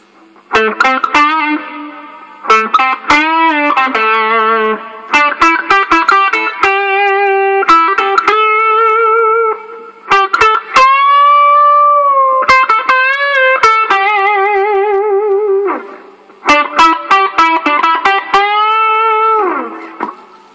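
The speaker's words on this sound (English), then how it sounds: "Now I'm going to switch on to the modulated reverb." Electric guitar chords strummed and held in bursts through a Digitech Hardwire RV-7 reverb pedal on its modulated reverb setting, with a lush, wavering shimmer in the reverb tail, loud and close.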